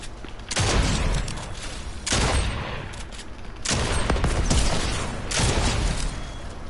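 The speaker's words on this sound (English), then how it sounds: "And you can use a shotgun too." Rapid bursts of gunfire in the video game Fortnite, four loud clusters of crackling shots spaced a second or so apart with a mechanical rattle between them.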